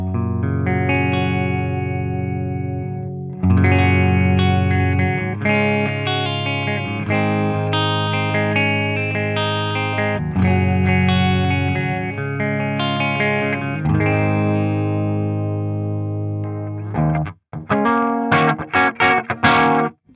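An electric guitar with a humbucker pickup plays through a SonicTone '67 Special Super Lead 100 British tube amp on its clean channel with the master turned up high. Loud, sustained ringing chords are followed by a burst of choppy, staccato strums.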